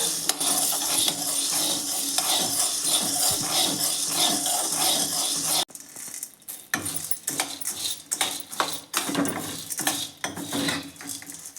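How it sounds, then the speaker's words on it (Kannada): Home-grown coffee beans roasting in a pan are stirred nonstop, first as a dense, continuous rattle and scrape, then as slower, uneven rasping strokes against the metal. "ಆಡಿಸ್ತಾನೇ ಇರಬೇಕು ಬಿಟ್ಟರೆ ಎಲ್ಲ ಬಿಡುತ್ತೆ ಹಿಂಗೆ ಫ್ರೈ ಮಾಡ್ತಾನೆ ಇರಬೇಕು"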